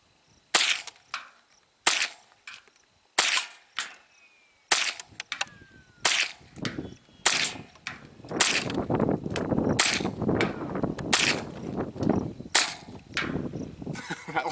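A Mossberg 702 .22 rifle fired in a string of about a dozen sharp, snappy shots at a steady rhythm, later shots ringing over a background of rustling noise.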